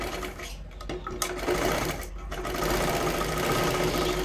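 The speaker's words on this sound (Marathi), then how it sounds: "ह्याच्यावरती एक डबल शिलाई मारून घ्यायची आहे जेणेकरून ते पूर्ण पॅक होऊन जाईल" A sewing machine double-stitches a katori blouse, a loud, close, continuous mechanical whir with no pause, steady across the whole stretch and slightly stronger toward the end.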